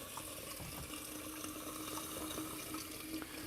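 Water running steadily over homemade butter being rinsed, a soft continuous tap-like wash, faint and close, with no voices.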